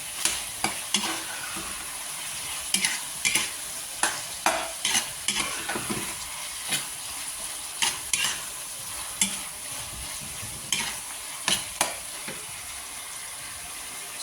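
Dinuguan seasoned with pepper is stirred in a pan over a low sizzle, with a spoon scraping and tapping the metal in a quick irregular rhythm, close and clear.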